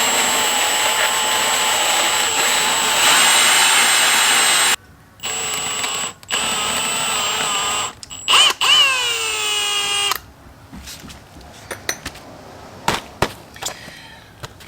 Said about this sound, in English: So we're going to go ahead and start cutting holes in a brand new part.